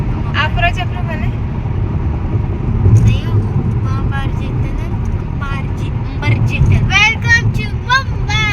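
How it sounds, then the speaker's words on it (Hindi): Heavy road traffic in Mumbai: a dense, continuous rumble of car and bus engines with repeated horn honks cutting through, fairly close, with people talking over it. "इतनी ट्रैफिक थी गाइस यहाँ पर"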